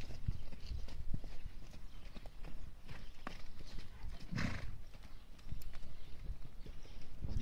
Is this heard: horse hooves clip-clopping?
yes